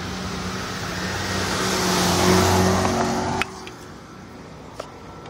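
A car engine rumbles and rises as the vehicle backs up, swelling to a peak before cutting off abruptly, followed by a quieter tail with a couple of faint clicks and no voices.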